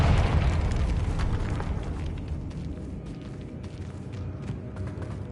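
A booming explosion from the Confringo explosive spell in Hogwarts Legacy hits loud at first, then trails off into a long, rumbling, crackling decay over several seconds.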